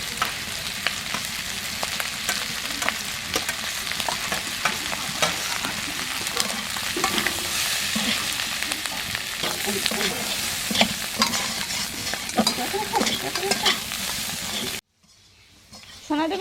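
Prawn chow mein with vegetables and egg is stir-fried in a pan, making a loud, continuous sizzle with scraping stir strokes, then it cuts abruptly to near silence just before the end.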